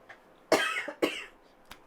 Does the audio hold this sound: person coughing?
yes